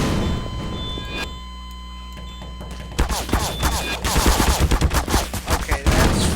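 Gunfire in the Garry's Mod sandbox game, a dense, rapid stream of shots bursting in after a quieter stretch and continuing loud and close to the end.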